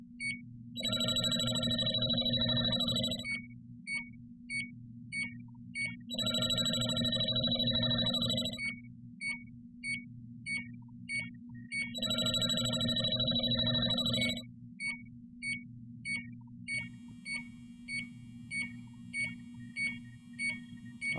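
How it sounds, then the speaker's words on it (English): LD-5000 Prowler refrigerant leak detector alarming, three loud bursts of rapid high beeping about two seconds long each, with quieter steady ticking beeps between them. "that will alarm until the refrigerant wears off"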